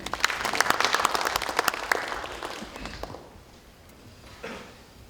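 Lawmakers at a party caucus meeting break into loud, dense applause that keeps going for a few seconds, then thins and fades.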